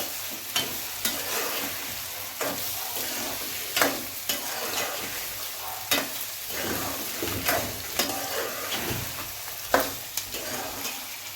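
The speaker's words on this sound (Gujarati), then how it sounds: "હવે મીઠું નાખીને એકદમ પરફેક્ટ રીતે આને હલાવી દેશું." Onion masala with added salt being stirred in a pan for egg curry, spaced spoon scrapes and clinks every second or two over a soft, steady sizzle, close by, with no voices.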